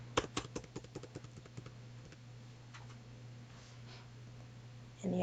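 Computer keyboard typing during an ed-tech screencast, a quick burst of light key clicks in the first couple of seconds followed by a steady low hum, close and moderately quiet, with no talking.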